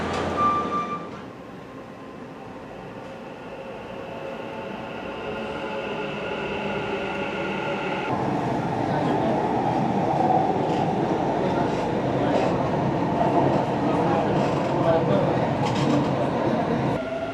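A Dubai Metro train rumbles steadily, its hum and rattle building as it gathers speed, with a brief tone early on and faint chatter in the background.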